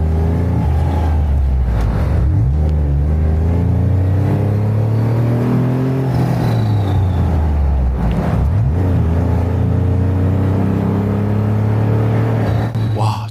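A Jeep Wrangler engine revs loudly and close, its deep exhaust note rising and falling in several sweeps over a continuous rumble.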